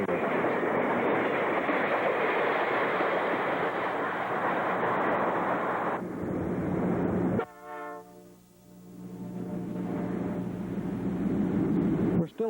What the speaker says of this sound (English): northbound freight number 207 goes by with engines 1808 and 1806 on their way north to Timmins, Ontario